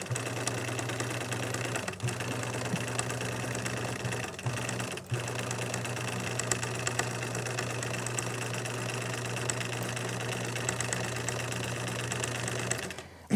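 A sewing machine runs a straight seam through fabric, giving a close, steady mechanical whir with quick needle clatter, broken by two brief pauses and then stopping near the end.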